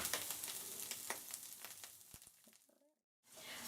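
Cannellini beans sauté in a single layer in a pan, giving a steady, close sizzle with scattered crackles that cuts out briefly near the end before resuming.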